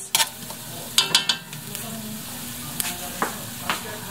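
Garlic and onion drop into a pan where ginger is already browning, giving a low steady sizzle with several sharp crackling bursts and stirring clatters near the start and later, with no voices.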